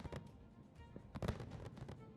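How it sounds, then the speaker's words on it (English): Fireworks burst at a hockey stadium during the celebration after India beat Korea 4-1 in the 2025 Asia Cup hockey final, with sharp cracks near the start and a louder bang midway over a constant crowd roar. "it's really loud here as the fireworks are going on"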